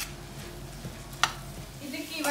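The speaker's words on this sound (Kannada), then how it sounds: "ಇದನ್ನು ಒಂದರಿಂದ 2 ನಿಮಿಷ ನಾನು ಹಿಂಗೆ ಫ್ರೈ ಮಾಡ್ತೀನಿ" Soaked basmati rice fries in a pan with a soft, continuous sizzle, a single scrape of a spoon stirring it, and a faint voice underneath.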